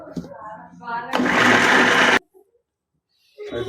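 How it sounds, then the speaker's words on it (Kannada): A kitchen mixer grinder whirs as it grinds masala for home-style chicken biryani. It runs in one loud burst of about a second, then stops sharply, with a voice talking before and after. "ಬನ್ನಿ ಮಸಾಲೆ ರುಬ್ಬಕ್ಕೆಲ್ಲ ರೆಡಿಯಾಗಿದೆ"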